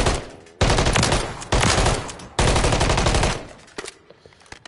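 Rapid automatic gunfire in a Call of Duty League match crackles in three long, loud, close bursts, each a dense stream of shots, followed by a few scattered single pops as the shooting dies away.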